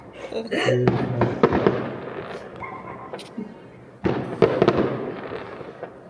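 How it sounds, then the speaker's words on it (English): Fireworks go off outdoors at a community event in sharp, crackling bursts, two main volleys with scattered pops and fizzing between them, moderately loud at mid distance, with indistinct voices faintly in the background. "They're saying you actually put them fireworks for Christine"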